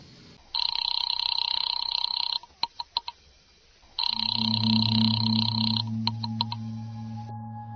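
A telephone rings in two long, loud bursts separated by a short pause, with a steady low hum joining during the second ring.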